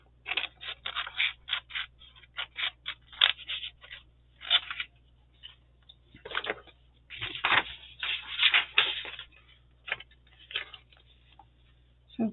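Scissors cutting a paper square, a close run of short crisp snips in irregular bursts with brief pauses between, over a faint low hum.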